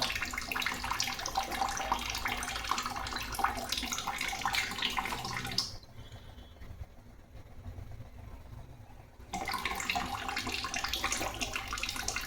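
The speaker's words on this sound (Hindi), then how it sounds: "इसमें कोई इसमें पानी नहीं बढ़ता, उसमें तुरंत निकल जाता है।" Water pours from a Livpure water purifier, a steady tap-like rush that runs for several seconds, cuts out briefly, then resumes at the same level with no talk.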